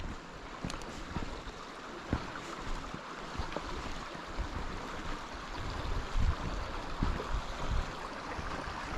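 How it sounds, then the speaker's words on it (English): Water trickling along a stream in Gunnerside Gill, a steady broadband wash of flowing water with no talk, fairly close and continuous throughout. "you've got the sound of the trickling water, which is, like I say, it's very therapeutic, very relaxing"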